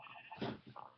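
A single short sheep bleat sounds in a video game maze, faint and quiet, with no one talking over it.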